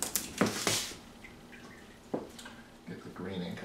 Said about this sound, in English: I'm going to rinse it over here.